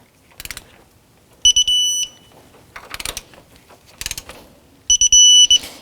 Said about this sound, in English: we're going to take our 9/16 socket and tighten these bolts to 23 foot-pounds